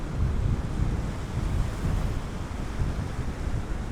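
Big ocean waves breaking into foam along the Orkney coast, a continuous loud roar of surf mixed with heavy wind buffeting the microphone.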